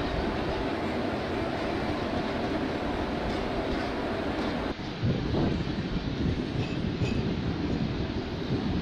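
In Indian Train Simulator (MSTS), the Avadh Express, hauled by a WAP4 locomotive, runs along the main line at about 50 km/h with a steady rolling rumble and drone that shifts in tone midway, continuous and moderately loud.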